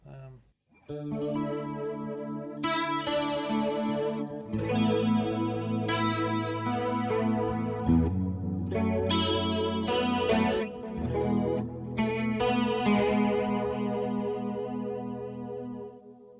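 Clean electric guitar chords ring out through a Nova Repeater delay and a chorus pedal, for quiet chordal church-style playing; sustained, shimmering strums bloom and repeat in wide, expansive echoes, close and alone for about sixteen seconds.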